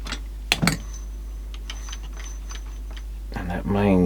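A Technics RS3 cassette deck's mechanism running on the bench after motor repair, a steady low mechanical hum with light ticking and clicks from the main gear, followed by someone speaking close by.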